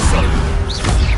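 A Levioso levitation spell from the Hogwarts video game gives a loud, close magical crash with a swishing sweep in the middle, all within about a second.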